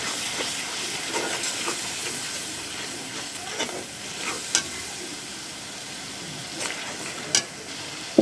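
Spices and chicken heart sautéing in a pan, a continuous bright sizzle and hiss with occasional sharp pops and stirring scrapes, close and without talk.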